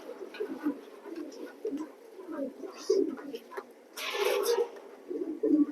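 Pigeons coo in low, throaty bursts inside a pigeon loft, close and continuous. A brief rustle or flutter comes partway through.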